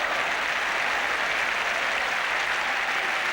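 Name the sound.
applause for Steve Perryman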